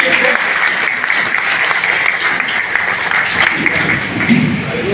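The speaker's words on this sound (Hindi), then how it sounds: "अग्रवाल जी विजयी हुए। जोरदार ताली।" A packed hall at a community society election bursts into loud, sustained applause for a winner, a dense wash of clapping with murmured voices mixed in underneath.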